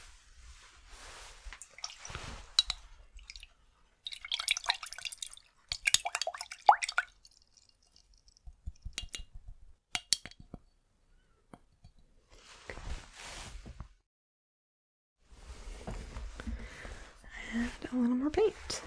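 A paintbrush is swished and dabbed in water while painting, making close, soft wet squishes and drips in several bursts with quiet pauses between them.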